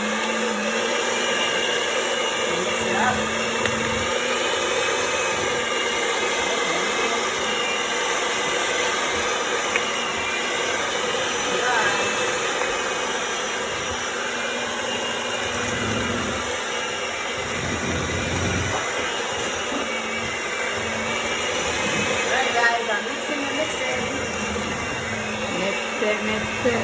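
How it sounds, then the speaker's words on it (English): A home electric mixer whirs steadily through banana bread batter for nearly half a minute, a continuous motor drone with slight dips in pitch, while a voice talks over it now and then. "Put my blender and my mixer. Okay, cover your ears, it might be loud."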